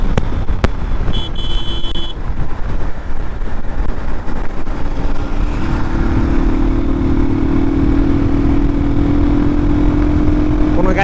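A motorcycle with a smooth, vibration-free engine rides at around 90 on a solo highway trip from Moulvibazar to Dhaka, its steady engine hum buried in heavy, continuous wind rush, with occasional talk.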